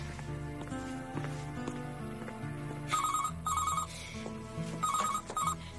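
A telephone in an Italian TV drama rings in repeated bursts of electronic trills over background music, fairly loud and close, with no talking during the rings.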